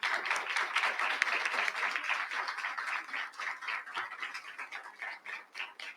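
A sustained, dense round of audience applause fills the room at a book presentation for a new edition of the Diccionario del Español de México, steady and fairly loud throughout with no talk over it.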